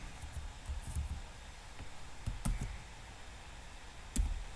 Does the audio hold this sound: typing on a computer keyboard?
yes